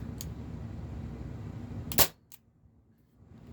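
A single sharp shot from an Umarex Beretta M84 FS 4.5mm CO2 air pistol, a close, abrupt crack cutting through a low background hum, followed by a faint click and then near quiet.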